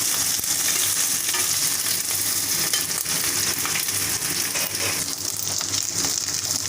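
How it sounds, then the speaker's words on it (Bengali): Onion, ginger and garlic paste fries in a pan with a steady loud sizzle and occasional stirring scrapes, heard alone throughout. "পেঁয়াজ আদা রসুন বাটা একসাথে একটু কষিয়ে নেব।"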